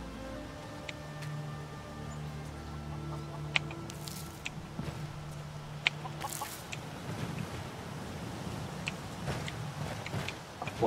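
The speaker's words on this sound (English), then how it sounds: "Chickens! I recognize chickens." Chickens cluck in Skyrim, several short bursts scattered over a steady low game background hum with sustained musical drones early on, moderately loud and close.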